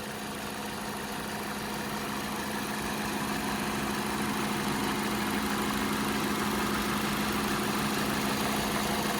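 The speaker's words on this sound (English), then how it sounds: "very smooth running engine, no odd noises or vibrations" A 2014 Ford Fusion SE engine idles steadily and smoothly, a constant low hum with no knocks or changes in pitch, close by.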